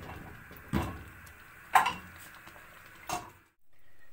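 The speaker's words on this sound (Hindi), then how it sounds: "चलिए हम अब अपनी खीर डिश आउट करते हैं।" Rice kheer made with soaked rice and milk is dished into a serving dish, with three distinct clinks and scrapes of a spoon against the pot and dish, spaced apart over quiet room noise.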